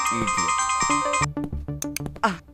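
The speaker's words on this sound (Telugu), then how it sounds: "మిస్డ్ కాల్ ఇచ్చావు కదా కాల్ వస్తుందిలే" A mobile phone rings with an incoming call, its melodic electronic ringtone playing loudly and steadily before cutting off, followed by brief knocks and a voice.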